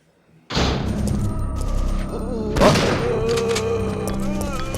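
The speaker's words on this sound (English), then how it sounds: "I hear gunfire." Gunfire and heavy thuds in Resident Evil 3: Nemesis, a sudden loud burst of shots with a second booming impact partway through, followed by lingering rumble and game sound.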